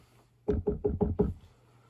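Knocking on a door, five quick, evenly spaced raps close by, standing out clearly against near silence.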